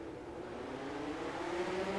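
Midget race cars accelerate together at the start of a sim race at Volusia, a dense rising engine drone with a climbing pitch, steady and fairly loud with no voices.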